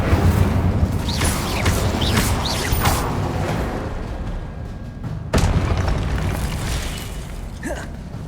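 Incendio fire spell cast in the video game Hogwarts Legacy, loud booming bursts and crackling blasts over a rumbling combat background, with a few sharp hits and a brief lull midway.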